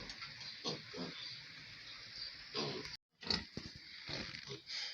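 A pregnant sow on a farm gives a run of low, snuffling grunts and breathy snorts, irregular and fairly close, with a brief silent gap before more rough grunting.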